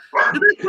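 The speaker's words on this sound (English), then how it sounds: "Who's over there barking?" Dog barking in short, sharp yaps, two or three quick barks close and loud, with voices mixed in.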